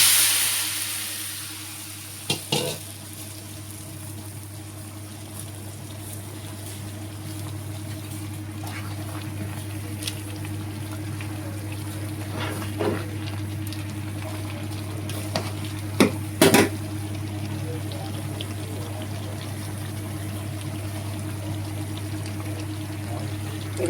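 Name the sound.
jackfruit frying and being stirred in a pan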